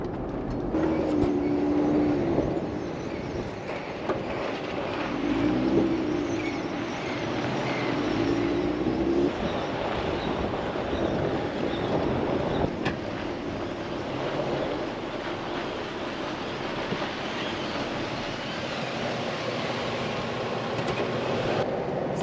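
An overland vehicle crossing a dry lake bed in the Mojave Desert, a loud continuous rumble of engine and tires on hard ground with steady road roar and rattles throughout, no voices.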